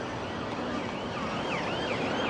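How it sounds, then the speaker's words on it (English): An ambulance siren wails on a Blackpool street, its rising and falling tone sweeping repeatedly over a dense wash of traffic and town noise, moderately close and steady. "Ambulances."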